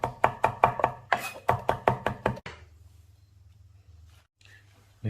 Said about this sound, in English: and then we can just roll them up and finely shred